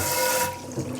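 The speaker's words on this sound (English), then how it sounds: "we're just going to kind of give it a little rough rinsing" Tap water splashes over a cast iron pan during a quick rough rinse, a steady close rushing that eases off partway through the second.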